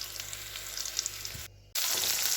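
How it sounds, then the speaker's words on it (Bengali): Potato pieces fry in a little oil for aloo dum, giving off a steady hiss and sizzle. The sound cuts out briefly near the end, then returns louder and brighter. "আলুগুলো আগে ভেজে নিচ্ছি একটু তেলে"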